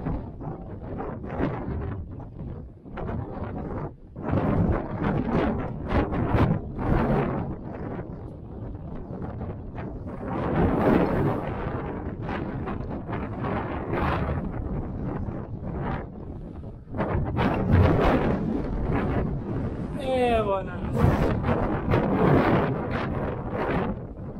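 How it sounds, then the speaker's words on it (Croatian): Strong gusts buffet the microphone on the 1014 m summit of Žbevnica in Ćićarija, coming in heavy, uneven roaring bursts with brief lulls between them. "Vrh je ispred nas, opušio jak vjetar"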